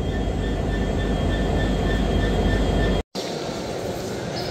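Onboard the Jahanabad Express on its inaugural run, a continuous loud rail rumble with faint high squeals runs throughout, broken by one short dropout.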